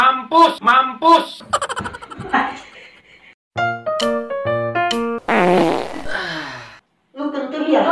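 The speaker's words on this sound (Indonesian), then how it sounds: "Lu kentut ya, Pak? Kentut enggak?" A string of comedic fart sound effects, loud and close, each a different length and pitch, from short sputters to long squeaky toots, broken by brief gaps with a little voice or laughter between.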